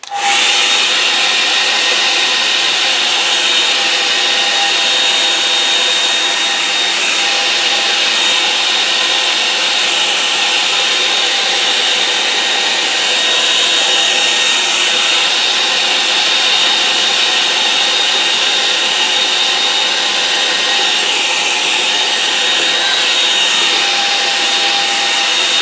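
A hair dryer blows steadily over a wet watercolour painting, a loud continuous whir with a faint whine that holds at one level for the whole stretch and stops only when the clip ends.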